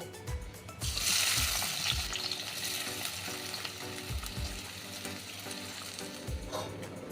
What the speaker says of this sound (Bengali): দুটো পেঁয়াজ আমি খুব কুচো করে কেটে নিয়েছি, এটাও আমি ভেজে নেব।